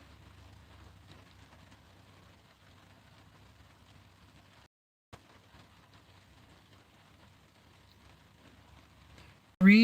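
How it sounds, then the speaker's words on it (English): Rain patters faintly on a car roof in a steady, soft hiss at night, briefly cutting out midway before a sudden loud burst at the very end. "I could almost go to sleep with the rain on the rooftop."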